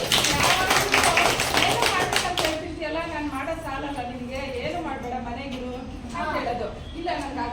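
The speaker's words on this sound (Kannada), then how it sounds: "ದೊಡ್ಡ ಚಪ್ಪಾಳೆ" Audience applause at a Kannada talk event, a burst of many hands clapping loudly for the first few seconds, then fading into a lingering patter of scattered claps under murmuring voices and speech.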